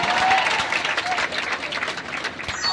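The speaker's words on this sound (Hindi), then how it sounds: "एक बार अपने संस्कारों के लिए जोरदार ताली हो।" Hall audience at an education motivational talk in Samastipur clapping loudly; dense, continuous applause with crowd murmur running throughout, no single voice standing out.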